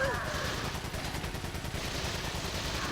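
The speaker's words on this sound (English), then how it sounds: "Aim and fire, and it blows up just like a grenade blast." An explosive bowgun arrow blowing up in Resident Evil 4, a loud, dense rumbling burst that crackles on without a break for the full stretch.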